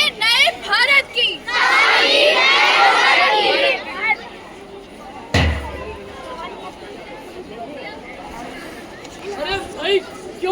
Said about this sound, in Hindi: अरे भाई क्यों इतना शोर मचा रखा है और इतनी सारी भीड़ क्यों लगा रखी है?